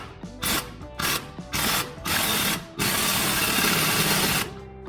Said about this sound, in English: We're just gonna put her on the impact here and tighten her up.